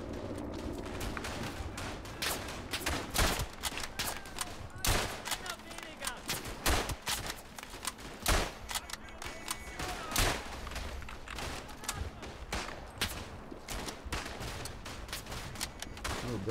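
Rapid gunfire from a World War I video game, with dense volleys of rifle and machine-gun shots and dull thuds crackling continuously under players' excited talk.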